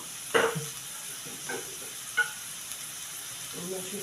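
Potatoes and onion fry in a pan with a soft, steady sizzle, broken by a few sharp clinks and stirring scrapes close by.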